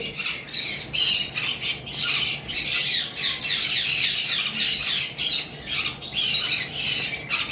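Green Fischer's and violet masked lovebirds squawk together in a dense, continuous chorus of shrill, harsh calls, close and loud without pause.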